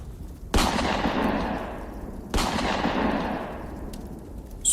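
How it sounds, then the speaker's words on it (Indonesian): Two loud gunshots fired into the sky ring out a couple of seconds apart, each followed by a long echoing decay across open space. "Suara tembakan yang diarahkan ke langit semakin membuat mencekam suasana pada saat itu"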